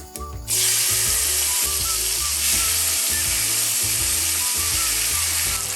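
Chopped tomatoes sizzle steadily in a hot pan on medium heat after a brief quieter start, a loud continuous frying hiss that persists with a faint low mechanical hum underneath.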